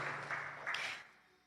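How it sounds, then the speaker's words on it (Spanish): Brief burst of congregation applause at a church service, fairly loud at first, then fading away over about a second into quiet. "Vamos a dar un aplauso a nuestro Dios"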